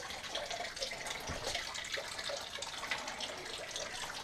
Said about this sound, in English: This hot water tank is still draining.